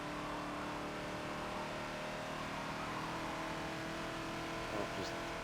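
A Ford Falcon XB's engine drones steadily on the Maple Valley circuit in Forza, held at a fairly even pitch and faint throughout, with a voice talking over it.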